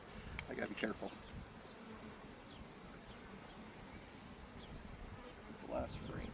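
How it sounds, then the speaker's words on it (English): Honey bees stirred up at an opened hive buzz as a steady, close swarm drone, with a few louder bursts near the start and end as insects fly past. "I happened to hit a couple bees there, and they all flew up and came at me."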